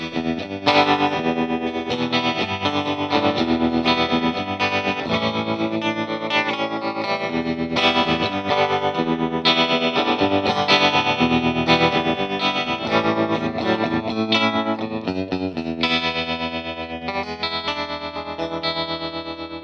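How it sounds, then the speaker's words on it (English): An electric guitar plays through a Strymon Flint pedal on its 63 tube tremolo setting. Chords and single notes pulse with a rhythmic, amplitude-wobbling shimmer and sustain continuously and fairly loudly, with no voices over the playing. "Now I'll let you hear some more tremolo sounds. Let's go to the 63 tube tremolo."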